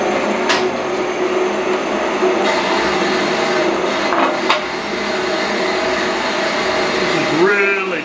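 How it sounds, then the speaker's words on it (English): A bandsaw cuts through the thick steel bottom of a CO2 tank, a steady grinding buzz with a metallic ring running continuously, loud and close, with brief knocks and a rising whine near the end. "This is really too big for my bandsaw, so I'll have to flip it halfway through."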